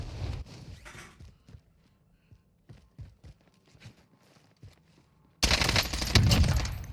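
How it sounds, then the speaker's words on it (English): Video game gunfire bursts in loud and close after a stretch of quiet, scattered taps, rapid shots piling into a dense, sustained volley through the final second and a half. "Shots."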